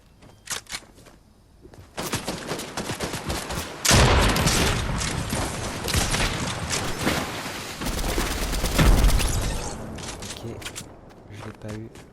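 Rapid bursts of gunfire from the video game Fortnite crackle in dense volleys, loud and sustained across the stretch, with a voice talking over the shooting.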